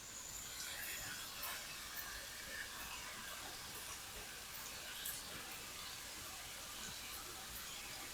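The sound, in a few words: ground beef frying in pan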